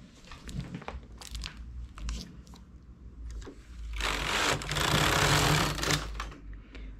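A knitting machine with a ribber, its handle turned by hand, produces a run of clicking and rattling mechanical taps, swelling into a louder, denser clattering stretch near the end.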